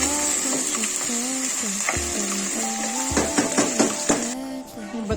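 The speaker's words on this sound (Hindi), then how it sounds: "ये भिंडियाँ फ्राई हो रही हैं" Okra frying in a home kitchen pan, a steady close sizzle with stirring and scraping clinks of a utensil against the pan throughout, a brief lull near the end.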